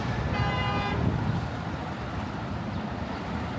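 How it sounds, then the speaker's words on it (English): A city bus horn blares in one short honk amid steady roadway traffic noise at a busy Toronto intersection near Don Mills and Eglinton, the toot standing out clearly before the engine rumble continues. "That bus just honked at that lady."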